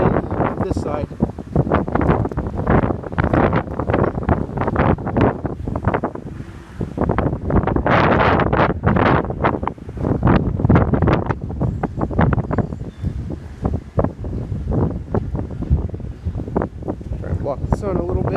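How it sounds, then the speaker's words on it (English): Wind blowing outdoors, buffeting the microphone in loud, gusty rushes that continue throughout, heard beneath someone talking. "it's kind of windy out"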